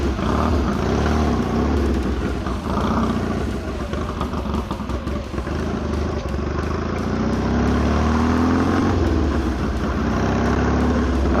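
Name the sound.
Triumph Desert Sled motorcycle engine running quietly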